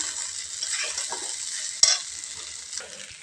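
Flattened rice (chira) frying in a pan, a soft steady sizzle with one sharp utensil knock partway through and light stirring scrapes; no voices.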